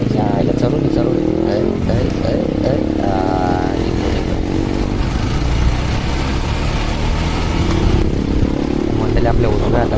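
A motorcycle rides along the Samruddhi Mahamarg expressway, its engine droning and shifting pitch continuously under heavy wind rumble, while people talk over it.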